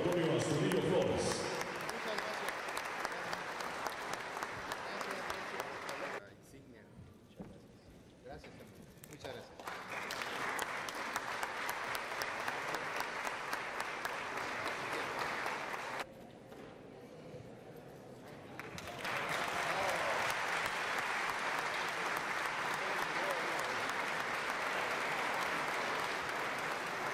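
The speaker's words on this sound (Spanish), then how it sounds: "Vamos a brindar fuerte el aplauso para el gobernador licenciado Héctor Antonio Astudillo Flores." Long, strong applause from an audience at a university council session for a state governor, dense clapping with a couple of brief dips, then continuing loud and steady.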